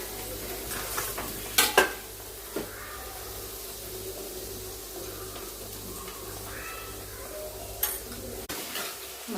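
Spice masala roasts in a pan for besan gatte sabzi, a quiet, steady sizzle with a few sharp clinks of a spoon against the pan near the start and end.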